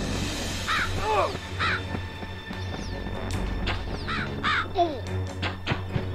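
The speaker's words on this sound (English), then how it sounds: "Get away, crows." Repeated harsh crow caws in MediEvil on PS1, scattered through the passage over a low game drone, with occasional thuds and a voice talking intermittently underneath.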